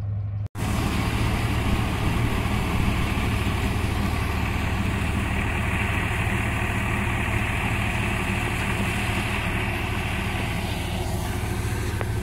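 A John Deere tractor engine idles at a farm, a steady low diesel rumble that holds close and constant after a brief cut at the start, with no talking.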